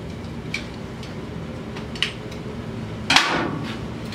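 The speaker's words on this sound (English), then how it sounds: "Taking the screwdriver, just kind of popping the rest of the way off." Screwdriver prying a C-clip off the rear axle of a Polaris Scrambler, heard as a few sharp metallic ticks followed by a louder snapping pop as the clip comes free.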